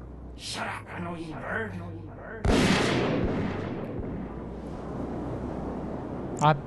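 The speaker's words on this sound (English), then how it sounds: "Oh, it's a sniper." Sniper gunfire in the video game Zeno Clash: talk in the first seconds gives way to a loud, sudden shot with a long rumbling tail, then a sharp crack near the end.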